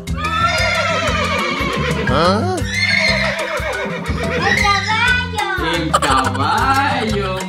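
A person's voice imitates a horse's neigh as part of an animal-sound guessing game, loud and close with wavering whinny-like calls over several seconds, while children and adults talk around it.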